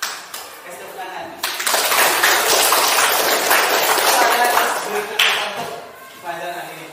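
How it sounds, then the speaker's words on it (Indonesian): Schoolchildren in a classroom clap their hands together in a burst of fairly loud, dense clapping lasting several seconds, with voices and talk around it before and after. "Kasih tepuk tangan."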